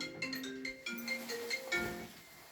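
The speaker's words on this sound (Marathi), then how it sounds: "फोन वाजला" A phone ringtone plays a bright, stepping electronic melody at moderate volume over a faint background hum.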